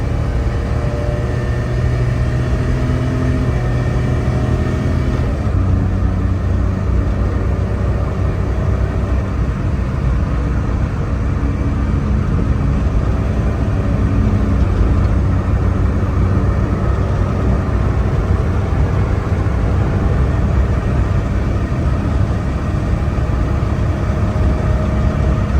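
A Suzuki Alto VXR converted to automatic cruises fast on a highway, its engine a steady loud droning hum under continuous road and wind roar from inside the car.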